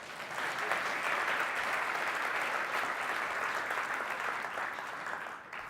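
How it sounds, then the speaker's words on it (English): Steady applause from conference delegates after a poetry recital by Omekengo Dibinga, a continuous wash of clapping that holds evenly for about five seconds before tailing off. "Give yourselves a round of applause"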